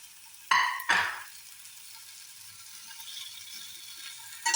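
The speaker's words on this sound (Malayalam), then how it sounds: "ഈ ക്യാപ്സിക്കോ ഇതൊക്കെ ഒന്ന് സോട്ടേ ചെയ്തെടുക്കണം കേട്ടോ അത് ഞാൻ വേറൊരു പാൻ വെച്ചിട്ട് അതിലൊന്ന് സോട്ടേ ചെയ്തെടുക്കണം" Capsicum dropped into hot ghee in a separate pan, two sharp sizzling bursts near the start settling into a quiet steady fry, with another burst at the very end.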